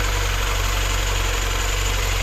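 A VAZ car engine idles steadily on its first start after a head gasket replacement, a low, even rumble and a constant hum, close by, with no talking.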